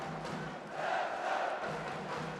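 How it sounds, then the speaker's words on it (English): Arena crowd cheering for Kazakh boxer Birzhan Zhakypov during a men's light fly final bout, a dense, sustained roar of many voices that swells louder midway and stays steady throughout. "you can hear the crowd here getting behind ZHAKYPOV."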